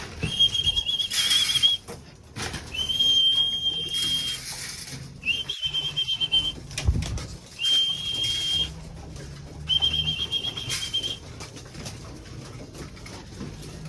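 Pigeons in a loft at feeding time, coos and flutters close by, while a person repeatedly blows a steady whistle in five long calls with rustling and shuffling between them.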